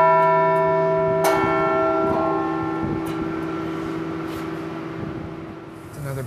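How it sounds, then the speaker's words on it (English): A church bell rung by pulling a rope linked to a baton or key in a room below; sustained ringing tones hum and shimmer as the bell is struck again, gradually fading. "pulls and rings a bell."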